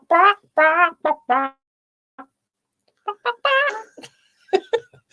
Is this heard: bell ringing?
no